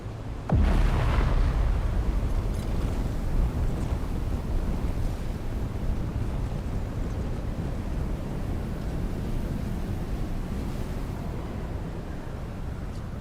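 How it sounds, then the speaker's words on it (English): A sandstorm on Arrakis in the Dune game roars as a steady, dense rush of wind and blowing sand, starting with a sudden gust-like burst, then holding a constant broadband howl without talk. "A large sandstorm is approaching."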